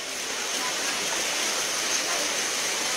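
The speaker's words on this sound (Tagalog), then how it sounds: "Baha na po dito guys" Floodwater rushing through a street on Don Manuel, Kaingin Road, as a steady, dense roar of flowing water with no breaks.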